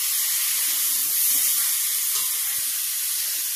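Potatoes are stirred into nearly cooked, spicy meat in a hot pan, giving a loud, steady sizzling hiss with faint scraping from the mixing and no talk.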